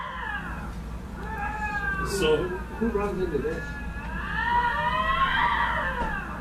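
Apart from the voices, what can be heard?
two male lynx cats fighting over territory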